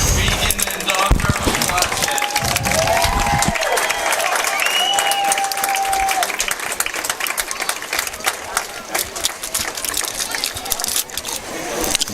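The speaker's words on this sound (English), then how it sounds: "So, give us applause for Beacon" Crowd in the stands at a high school football game between East Clinton and Clinton Massie applauds and cheers steadily, with a voice talking over the noise.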